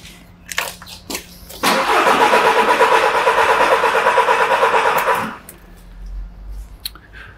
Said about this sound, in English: We'll crank it over now and capture, hopefully, a cylinder down and how that's reflected in the current from the starter motor.